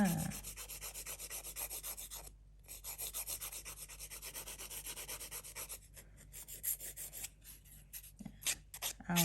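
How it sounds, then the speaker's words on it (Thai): Nail file rasping back and forth to shape fingernails into an almond form, a steady close rubbing with rhythmic strokes, brief pauses, and quicker, choppier strokes toward the end, with no talking. "ทีนี้ก็มาตะไบฝั่งนี้ค่ะ"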